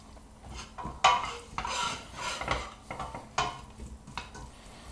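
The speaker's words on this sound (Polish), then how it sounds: "Chwilkę tu pomieszamy." Pork for goulash is stirred in a heating pot, giving close, irregular scraping and clinking strokes with a few sharper knocks against the pot, and no talking.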